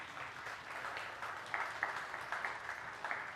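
Listeners at a gathering applaud a woman named Annabelle who has just given birth, fairly faint, distant clapping that picks up with a few sharper claps toward the end.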